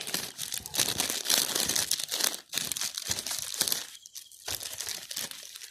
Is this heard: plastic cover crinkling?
yes